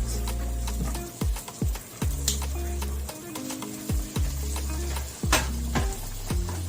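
Shrimp frying in a pan for shrimp and crabmeat Alfredo give off a steady sizzle, broken by sharp clinks and scrapes of utensils against the pan, with a low steady hum underneath and no talking.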